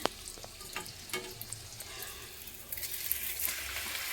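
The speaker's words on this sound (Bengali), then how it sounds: "আর এই যে লুচি মাসি ভাজছে এখন" Luchi, puffed flatbread, frying in hot oil in a home kitchen, a soft continuous sizzle with occasional pops and utensil scrapes, fairly quiet and close, without talk.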